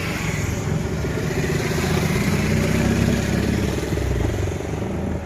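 A motorcycle engine drones steadily nearby amid dense road traffic noise in Mysore, heard from an auto-rickshaw, a continuous rumble without pauses.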